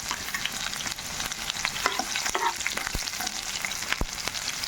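Chopped onions and cumin crackle and sizzle steadily in hot oil, with scattered stirring scrapes and clicks throughout. No one speaks.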